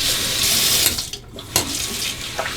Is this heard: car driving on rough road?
no